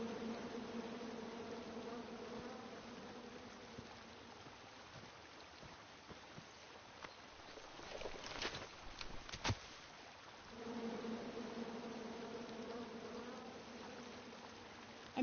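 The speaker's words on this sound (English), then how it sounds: "Come at me, bees!" In the King's Quest video game, a swarm of angry bees drones in a steady, low, continuous buzz. The buzz swells and fades, with a brief burst of louder rustling in the middle.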